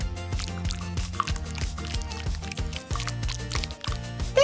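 Crayola acrylic paint mixed with water being stirred in a plastic cup, a rapid string of wet clicking and squishing strokes in a quick steady rhythm, close and fairly loud.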